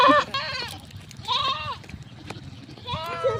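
A goat bleats several times in short wavering cries, nearby, with low background noise between calls.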